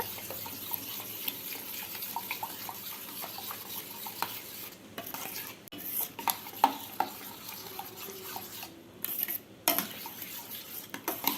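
Onion, salt and pepper are stirred into paniyaram batter in a bowl, giving soft, irregular wet scraping and light clinks of utensil against the dish, fairly quiet and close.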